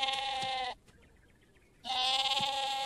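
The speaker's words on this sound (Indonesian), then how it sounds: "Ce mouton, depuis qu'il est rasé, ressemble un peu à un cochon" A freshly shorn sheep bleating twice, two long loud wavering calls close by separated by a short quiet gap.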